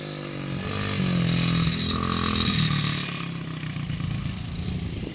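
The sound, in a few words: dirt bike engine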